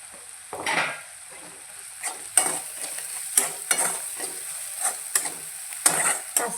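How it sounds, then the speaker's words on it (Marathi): Masala for pithla being roasted and stirred in a pan, with a soft background sizzle and repeated sharp scrapes and taps of a spoon against the metal at a fairly regular pace. "असंच भाजलं पाहिजे मसाला"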